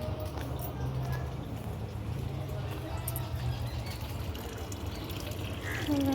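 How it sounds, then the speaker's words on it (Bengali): Water runs steadily from a tap with a constant rushing splash, close by, while someone talks over it and birds chirp faintly. "জল আসতে হয়ে গেছে এই যে জল পড়ছে"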